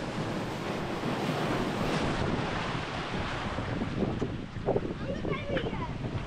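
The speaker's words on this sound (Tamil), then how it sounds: "ஏய் அலை அடிக்குது." Sea waves crash and roll onto Cuddalore beach in a loud, continuous roar with wind buffeting the microphone, while people shout and talk over the surf.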